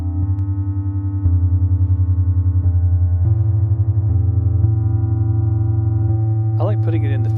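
An ambient pad from Ableton Wavetable, with its effect placed before the echo, sustains steady low tones that shift in pitch partway through and carry soft repeating pulses. A brief brighter swell comes near the end.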